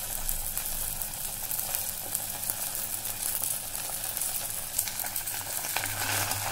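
Goat brains fry in a pan with black pepper and green cardamom, giving a steady, close, dense sizzle with faint stirring scrapes throughout and no talking.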